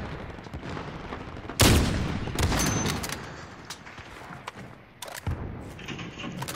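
Sniper rifle shots in a video game, one loud booming shot followed by a long decaying echo, then a second sharper crack a few seconds later over low ambient noise.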